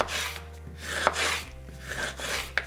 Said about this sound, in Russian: Нарезаем на тонкие слайсы.